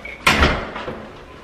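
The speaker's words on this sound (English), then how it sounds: "Oh, the door." A door opening indoors, one sharp close knock and rattle followed by a short fading creak, with no talking.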